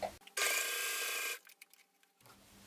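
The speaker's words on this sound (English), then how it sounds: "I'm gonna sew it very close to the original seam." A home sewing machine stitches a dress seam close to the original seam, a loud steady whirring run lasting about a second before stopping, followed by quieter handling noises.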